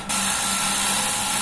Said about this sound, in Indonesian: sekarang kita menggunakan mata bor ukuran 25 mm